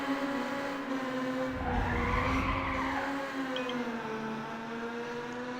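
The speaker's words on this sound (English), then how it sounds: "You can hear the car already over revving." A racing car engine in the video game Ridge Racer Type 4 whines at high revs, over-revving, its pitch rising and falling, with a brief tire skid in the middle, fairly faint with no talk.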